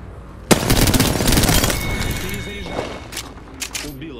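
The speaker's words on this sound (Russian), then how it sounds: "Под огнем. В меня стреляют." Rapid automatic gunfire in Apex Legends erupts loudly and continues as a dense rattle for over a second, then gives way to scattered bursts and pops mixed with game effects and some voice.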